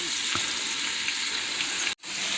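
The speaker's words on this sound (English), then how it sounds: "I have my vegetables chopped up, and I'm trying to get these sauteed" Chopped vegetables sauté in a hot skillet on a stovetop, giving a steady, close sizzle that runs unbroken except for a brief gap near the end.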